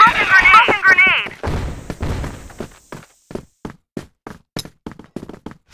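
A smoke grenade thrown in a first-person shooter game, with a short radio-style voice callout followed by a string of sharp, evenly spaced thuds and knocks that grow sparser and quieter.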